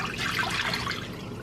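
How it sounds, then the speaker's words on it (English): Chicken stock and water poured into a cooking pot for homemade wonton soup, a steady, close liquid splashing and trickling that runs continuously without speech. "So to my pot, I'm going to add my chicken stock and my water."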